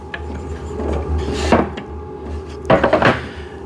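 A wooden cycling desk table piece is flipped over, giving two bursts of knocking and scraping thuds against a low steady background hum.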